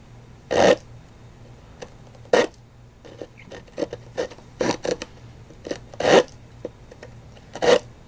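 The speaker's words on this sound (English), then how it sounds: "Now here's the saw from a Swiss Army knife" A Swiss Army knife saw cuts a groove in wood, giving short rasping strokes at an uneven rhythm, close and fairly quiet, with several stronger scrapes standing out among lighter ones.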